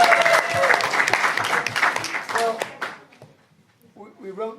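Wedding guests break into applause for the groom's father as he comes up to give a speech, a dense burst of clapping that thins out and stops, followed by a voice starting to speak.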